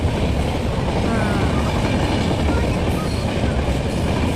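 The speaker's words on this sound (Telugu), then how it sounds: "ట్రైన్ పోతుంది." Train passing close to a railway gate at the Neredmet crossroads, a steady, loud rumble of wheels and wagons filling the whole stretch without a break.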